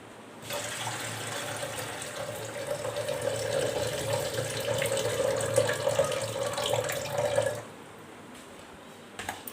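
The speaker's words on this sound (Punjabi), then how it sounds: "ਪਾਣੀ ਇਹ ਚ ਪਾ ਦਈਏ ਆਪਾਂ ਦਾਲ ਧੋ ਲਗੇ" Tap water running steadily into a vessel to wash whole masoor lentils in a home kitchen, a continuous close splashing stream lasting several seconds before stopping.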